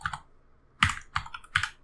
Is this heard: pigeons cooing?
no